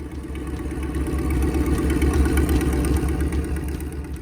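The engine of a Bradbilt log hauler idles at a steady, moderate level with an even low throb and light mechanical clatter, running alone without talk.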